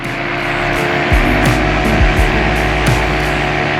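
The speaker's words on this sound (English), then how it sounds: "talking while you're flying with a propeller spinning behind you" A paramotor propeller spins behind the pilot during a sunrise flight over the Sanibel Island causeway, a loud, constant close-up drone with wind buffeting and slight pitch wobbles throughout.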